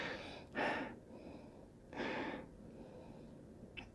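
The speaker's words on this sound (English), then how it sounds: "Take that longer sniff." Two short, breathy sniffs of a lager close to the ear, a second or so apart, followed by quiet.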